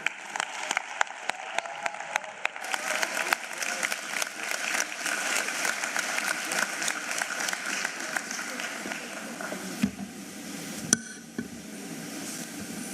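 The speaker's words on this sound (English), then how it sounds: "let's please put a warm round of applause for Minister Sivue Kwahube." A large audience applauds the minister at the 2024 matric results announcement in South Africa. The clapping is steady and full, swells then thins toward the end, and murmurs and movement sounds run underneath.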